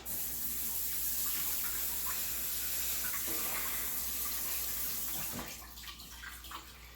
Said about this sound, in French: Je vais commencer par mouiller mon linge. De l'eau bien régulière.